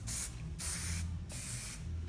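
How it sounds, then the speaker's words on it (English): Hair design spray is sprayed in three quick hissing bursts, close and steady, with a low background hum underneath and no talking. "I like to use the design spray"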